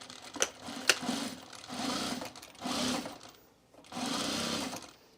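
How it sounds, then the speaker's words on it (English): Sewing machine edge stitching thick fabric for a baby bag, running in several sustained whirring bursts with short pauses between them, close and clear, with no talking. "And now we're going to edge stitch this."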